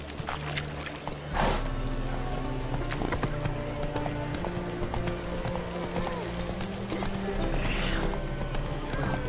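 Rhythmic hoofbeats of a galloping horse, loud and continuous, with a whinny partway through and a low musical drone underneath.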